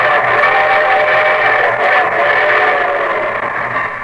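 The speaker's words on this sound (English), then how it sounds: "And here comes the star-studded show train." Train sound effect for a 1949 railroad radio program, a steady loud rolling rumble with sustained whistle-like tones held throughout, continuous and close with no voices.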